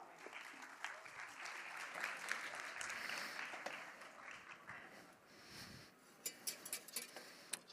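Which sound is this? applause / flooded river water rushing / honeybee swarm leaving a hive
applause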